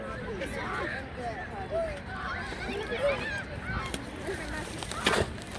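Several honking duck calls sound repeatedly at a moderate distance in a park, with people talking softly in the background.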